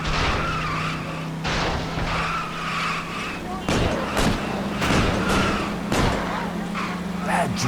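Car tires skid and squeal from reckless driving in the video game L.A. Noire, several sharp screeches and impacts over a steady engine hum, with a voice speaking in between.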